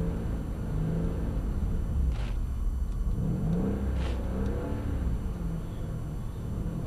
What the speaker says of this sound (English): here we just balance the car using the throttle and the brake, throttle and the steering even.